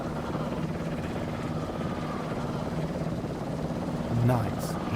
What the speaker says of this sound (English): Helicopters are still so loud.